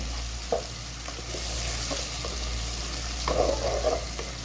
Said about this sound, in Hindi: इनको हम ऐसे इसको भून लेंगे